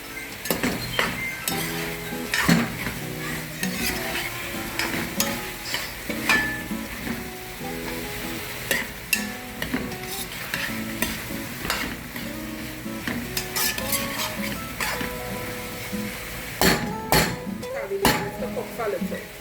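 Pre-boiled salted pigtails sizzle and are stirred in hot oil in a pot for a Trinidad-style breadfruit oil down, with steady crackling, frequent clinks and scrapes of a spoon against the metal, and a faint voice in the background.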